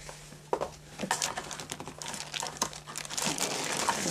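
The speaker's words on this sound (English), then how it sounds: "The individual battery backup comes in a bag." A plastic packaging bag holding an APC battery backup unit is crinkled and handled up close, giving a steady run of soft rustling and crackling with a few sharper crinkles.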